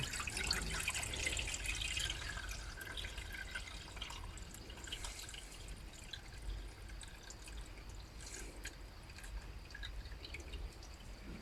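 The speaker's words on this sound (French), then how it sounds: "On va passer la préparation. Donc, une petite passoire." Homemade ivy laundry liquid strained through a small sieve, giving a steady trickle and drip of liquid that runs throughout. It is soft and near, with no talk.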